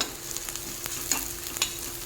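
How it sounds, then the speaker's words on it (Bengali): Onion and crushed garlic frying in oil, giving a steady close sizzle with faint scraping stir sounds and a couple of small crackling pops, continuous and alone with no talking. "থেতো করা রসুন দিয়ে এবার ভেজে নিতে হবে।"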